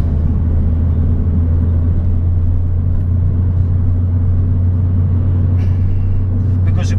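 A car on a driving lesson pulls away toward the national speed limit, its engine a loud, steady low rumble with road noise throughout and brief higher hiss near the end.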